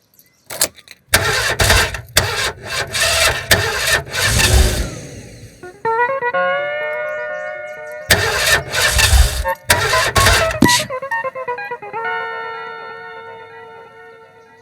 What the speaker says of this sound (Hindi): कभी गाड़ी नहीं स्टार्ट होती है यार।